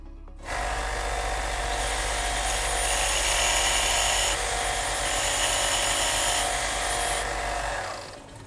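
A power sanding tool runs steadily on a Boba Fett jet pack prop, a loud continuous high whine with buzzing texture that swells slightly in the middle and holds for about eight seconds with no talking.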